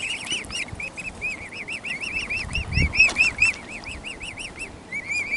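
Ducks and a swan squabble on the Norfolk Broads: rapid repeated honking and quacking calls with splashing and flapping water noise, fairly close and continuous, with no voices.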